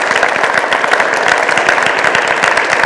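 A conference audience gives a big round of applause for four speakers, dense continuous clapping, loud and close, filling the room without a break.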